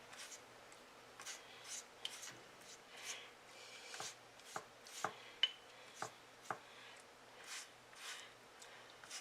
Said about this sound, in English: I'm just going to brush this whole thing with the egg wash.